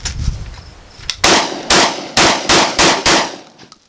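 An American Tactical TacSX2 shotgun fires Suprema shells in six loud, sharp blasts in quick, fairly even succession, each followed by a short ringing decay after a faint handling clatter.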